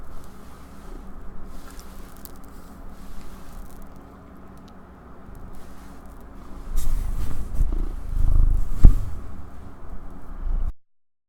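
A cat purring on a person's lap during a Magic card game session, a close, low, continuous rumble that swells louder in the second half before stopping abruptly.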